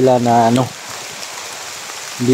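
Heavy rain pours steadily as a dense, even hiss, with a voice speaking briefly at the start and again at the end.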